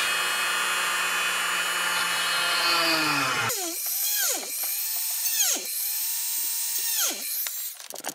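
A power drill whines steadily, then its pitch swoops down and up in repeated bursts as the bit bites into birch wood, close and fairly loud.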